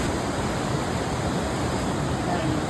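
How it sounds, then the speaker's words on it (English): Crystal Creek Falls pours in a steady, broadband rush of falling water, a constant near roar with no breaks across the whole stretch, heard on a January hike. "We have reached the waterfall."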